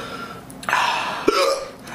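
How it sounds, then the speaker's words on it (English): Two short hiccups, close and clear, from a person after eating very hot peanuts, set against a noisy background. "Hiccup's coming."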